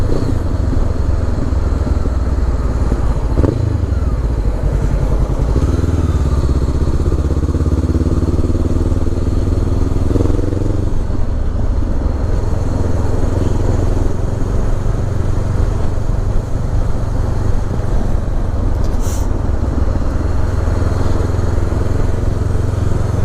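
A 2016 Honda CB500X motorcycle on a daily commute, its engine droning steadily and loudly throughout with rising and falling tones as the rider shifts and changes speed, wind noise constant.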